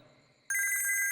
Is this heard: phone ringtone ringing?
yes